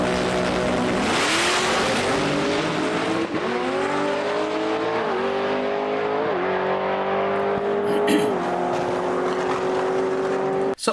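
A race car with a supercharged 1.7 liter engine accelerates hard down a drag strip, its loud rising whine climbing through several gear shifts, steady and close, before cutting off abruptly at the end.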